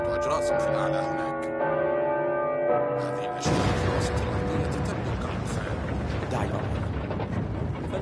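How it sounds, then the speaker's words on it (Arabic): Church bells ring in the Uncharted 4 video game, sustained tolling tones that give way to a loud rumbling surge midway, with game ambience underneath. "ندق الأجراس"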